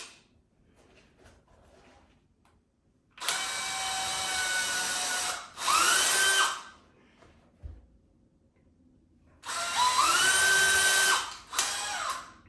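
A power drill whines in two bursts while drilling into a Nike Air Max sneaker, each a long run followed by a short one, with quiet pauses between.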